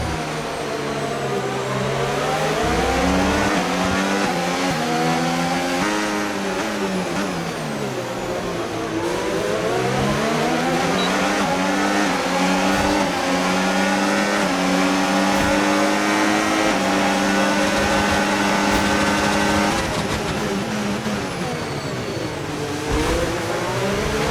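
A Formula 1 car engine in the F1 25 racing video game runs loud and continuous for the whole stretch, its pitch rising through each gear and dropping sharply at every shift, with no talk.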